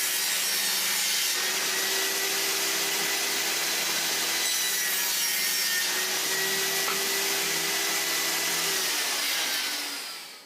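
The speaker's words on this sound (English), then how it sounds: "just setting it so that I can cut the base and the top" Wood is cut for the base and top of a cheap screw box, a continuous loud saw drone with a rasping, grinding texture that runs without pause and fades at the end.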